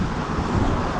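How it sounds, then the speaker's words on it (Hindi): Strong wind blows steadily outdoors on a cool day in Canada, a broad, constant rushing roar buffeting the microphone with no speech. "हवा चल रही है बड़ी अच्छी सी तेज"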